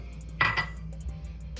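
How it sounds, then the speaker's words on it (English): A spoon clinks and scrapes against a bowl while peanut butter is worked into homemade peanut butter ice cream mixture, with a couple of brief, close knocks and faint room noise afterward. "I'm gonna get our peanut butter in there."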